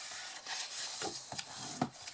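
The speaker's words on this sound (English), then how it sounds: "we're just going to fold and burnish these score lines" Cardstock is folded and burnished along score lines, giving soft, quiet rubbing and scraping strokes with a few sharper crisp creases, close by and with no other sound.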